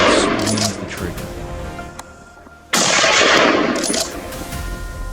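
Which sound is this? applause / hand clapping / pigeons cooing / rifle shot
rifle shot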